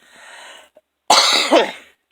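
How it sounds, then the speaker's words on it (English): Two bursts of harsh coughing, close and loud, the second fit longer and raspier, following a softer stretch of breathy noise. "I'm coughing a lot"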